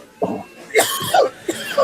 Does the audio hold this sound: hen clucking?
no